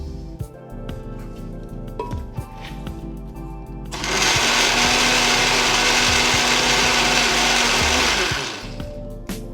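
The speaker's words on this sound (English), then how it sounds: "We need to blend them together." A kitchen blender whirs loudly and steadily for about five seconds, blending banana, whey protein and eggs, after a stretch of quieter clinks and handling sounds.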